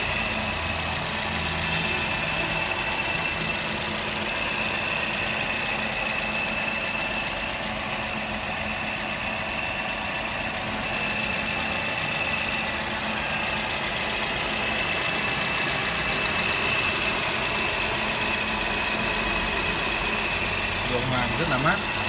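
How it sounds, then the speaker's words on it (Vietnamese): A 2010 Toyota Vios engine idles with the hood open, a smooth, steady, even hum that holds unchanged throughout. "Máy nổ rất êm."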